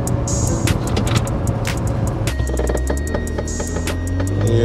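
A McLaren 650S Spider on its first road test after a crash, with the wheel alignment off, drives close by with a steady engine and road rumble, the engine note shifting partway through, with scattered clicks and knocks over it.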